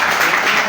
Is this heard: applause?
yes